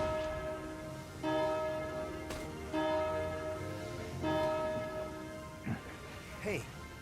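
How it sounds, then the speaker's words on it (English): A bell rung repeatedly in the video game Valkyria Chronicles 4, with about four loud, ringing strikes spaced over a few seconds, each tone lingering, and brief voice sounds near the end. "Now ring the bell 5 times."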